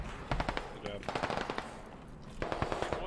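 Machine gun fire in Squad during a sandstorm battle in Fallujah, with rapid bursts of shots in several clusters, some close and sharp, others quieter between them.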